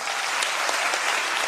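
An audience at a youth rally in Nanded claps steadily in a dense, even burst of applause, loud and continuous with no voices standing out.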